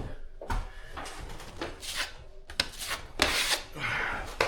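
A drywall knife scrapes joint compound across screw heads in a few quick swipes, close rasping strokes with brief gaps between them.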